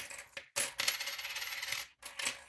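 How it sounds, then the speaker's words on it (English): Coins dropping and jingling, close metallic clinks and rattling in a few bursts with short pauses between them, no talking. "I also have to get rid of some of my coins actually"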